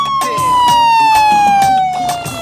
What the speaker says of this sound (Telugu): అంబులెన్స్ వచ్చేసిందయ్యా.